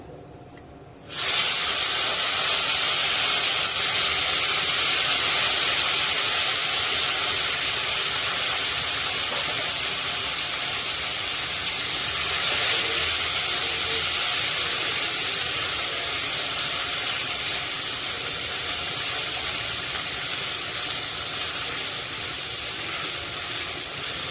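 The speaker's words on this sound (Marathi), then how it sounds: "आता आपण भिजत ठेवलेले जे बटाटे आहेत ते यामध्ये घालून घेऊया" Soaked potatoes drop into hot oil seasoned with asafoetida. A loud, even hiss starts abruptly and holds steady, broad and unbroken, for over twenty seconds.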